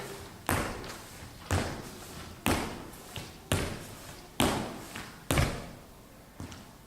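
Feet land during bounding and broad jumps at a home lower-body workout, making seven heavy, close thuds spaced about a second apart, each decaying quickly with no voices over them.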